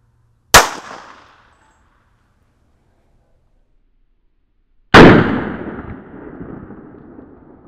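Two sharp, loud reports from a tiny revolver fired into half-inch pine boards, a single crack followed by a quick decay, then a second, heavier blast with a longer ringing tail.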